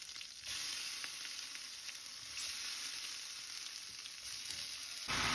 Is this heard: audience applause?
no